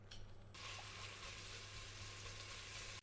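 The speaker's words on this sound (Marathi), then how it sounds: "याच्यासाठी आपण थोडासा कांदा चिरून घेतला आहे आणि याला आपण थोड्याशा तेलामध्ये परतून घेऊया." Chopped onion sautés in a little oil, giving a soft, steady sizzle and hiss that starts abruptly after a brief quieter moment and continues evenly, faint and close.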